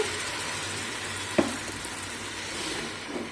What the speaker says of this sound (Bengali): পুদিনা আর ধনে পাতা যেটা পিসেছিলাম ওইটা দিয়ে দিচ্ছে